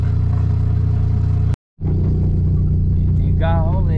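A long queue of cars driving down a ramp, heavy close rumble and engine clatter running steadily, cut by a short silent gap, with a voice talking over the traffic near the end.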